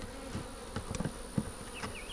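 Honey bees buzz around an open long hive, a steady low hum of many wings with occasional single bees whining past close by, outdoors in hot weather.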